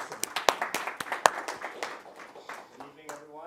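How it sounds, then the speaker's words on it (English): A brief burst of audience applause at an evening meeting, a few sharp close claps over a scattered patter that fades within seconds as a voice begins speaking. "Give him a round of applause."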